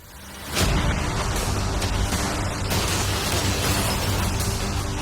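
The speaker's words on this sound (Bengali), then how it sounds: "দেখা যাক তুমি আগের ফেজ থেকে শিক্ষা নিয়েছো নাকি ক্যানন বলগুলো তোমার ইয়টকে হিট করবে।" Cannon balls fired at a yacht in a large outdoor challenge, a sudden loud boom after a brief quiet, followed by a sustained rumbling roar with further pops and bursts.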